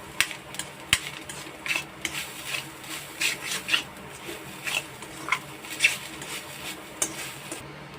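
A spoon scrapes and stirs in a pan while grated coconut is dry-roasted for modak filling, with irregular rasping strokes and light metallic clinks, close and alone.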